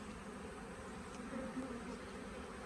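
A honeybee swarm in a cardboard box gives off a faint, steady buzzing drone throughout, low and unbroken, outdoors at an apiary.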